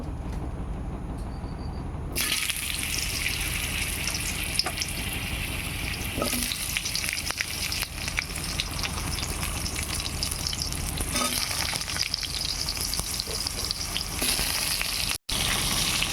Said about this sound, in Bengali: কড়াইয়ের মধ্যে আবার তেলটা দিয়ে দিলাম এবার আলুগুলি কষিয়ে নেব